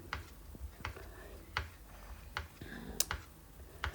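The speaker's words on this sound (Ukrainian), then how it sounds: "Теж я нарізаю маленькими кубиками, щоб воно дуже добре перемішувалося з нашою начинкою." A knife chops vegetables into small cubes on a board for a simple stuffed eggplant dish with turkey mince, giving sharp, evenly spaced taps roughly every half second, close and moderately loud.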